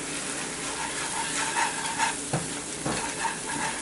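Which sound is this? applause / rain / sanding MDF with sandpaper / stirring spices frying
stirring spices frying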